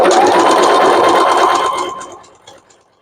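A sewing machine embroidering a bookmark whirs loudly and steadily up close, then slows and winds down to a stop over the final second.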